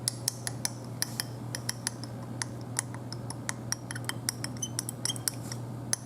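A phosphate solution stirred in lab glassware, with a rod or spoon giving rapid, light, irregular clinks against glass over a steady low hum.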